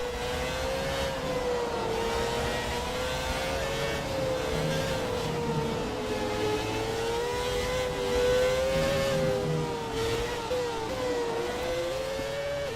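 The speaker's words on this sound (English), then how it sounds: "Listen to the shift downs, it's just incredible." A high-pitched Formula 1 car engine in a racing video game whines steadily close by, its pitch rising and dipping through quick gear changes and downshifts, with constant mechanical roar underneath.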